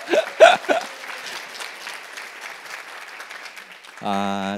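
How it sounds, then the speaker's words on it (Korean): At a startup demo day for a youth entrepreneurship academy in Daejeon, a few loud initial claps give way to softer, scattered audience applause that fades, followed by a short voice at the end. "건종님한테도 한번 박수 한번 주시면 감사하겠습니다"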